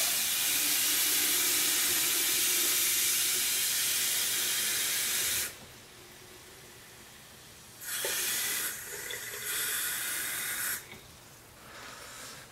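Water is poured into a measuring beaker made from a cut-down spray bottle while mixing a JOBO C41 press kit, giving a steady hissing pour that stops and then returns in shorter bursts.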